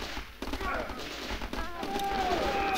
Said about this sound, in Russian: У меня же есть минометчик, который вот так делает, да.